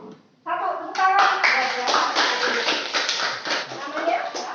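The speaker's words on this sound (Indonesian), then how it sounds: "Tepuk tangan." A classroom breaks into applause after a pupil's summary, a burst of many hands clapping steadily for a few seconds, with voices and chatter underneath.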